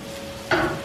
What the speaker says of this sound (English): Just stir the onion.